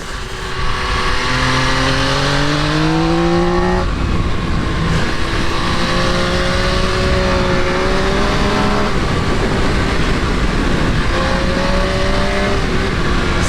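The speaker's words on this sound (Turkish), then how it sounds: "Saçma sapan gaz açıyorum yine de yerden ayrılmıyor alet ya" An MV Agusta Brutale 800 motorcycle engine revs as the throttle is opened repeatedly, rising pitch sweeps in three bursts with brief drops between, loud and close under constant wind rush.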